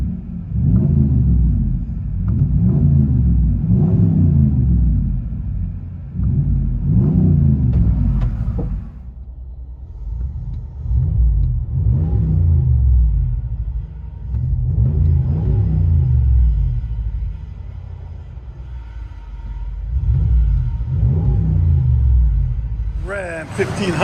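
A Ram 1500 with a 5.7-liter Hemi V8 and Flowmaster Outlaw exhaust, heard from inside the cab, rumbles deeply through repeated rev swells and a lower idle between them. The sound is loud and close, with a brief spike at the end.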